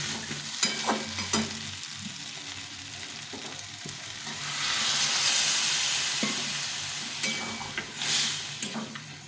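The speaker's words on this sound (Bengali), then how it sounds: "এই ছোলাটা দিয়েছি দিয়ে একটু কষিয়ে নিলাম" Chickpeas being sautéed for ghugni crackle and sizzle in a pan, with intermittent spoon scrapes and clinks, a hissing swell in the middle, and no voices.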